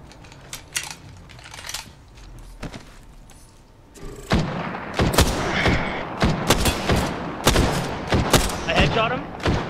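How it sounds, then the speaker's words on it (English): Repeated sharp gunshots in the console shooter Apex Legends, scattered single cracks at first, then rapid bursts of loud fire packed closely together, with a voice speaking underneath. "I was just shooting through the trees"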